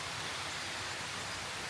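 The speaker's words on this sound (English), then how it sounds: "it's still raining a little bit" Steady rain falls outside, a dense, even hiss with no distinct drops standing out, continuous and fairly soft throughout with no talking.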